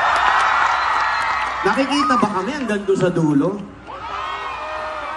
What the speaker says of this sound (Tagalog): Pwede ba ulit makarinig na malakas na palakpakan na may kasamang sigaw?